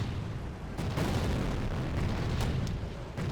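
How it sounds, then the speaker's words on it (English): Artillery fire in a World War II strategy video game rumbles as a dense, continuous roar of distant explosions, with a few sharper booms rising out of the wash partway through. "that might be my own artillery"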